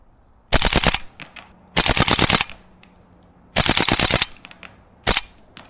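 A Tokyo Marui Saiga 12 airsoft shotgun fires full auto in four loud, close bursts of rapid snapping shots, the last burst shortest, with brief quiet pauses between.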